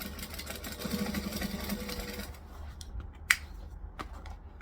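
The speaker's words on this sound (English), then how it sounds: "I'm going to chain stitch them." A sewing machine chain stitches darts with a quiet, steady mechanical whir for about two seconds, then stops, leaving faint clicks and one sharp tap.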